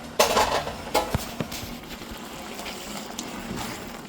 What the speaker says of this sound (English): So now I'm just going to stir this out here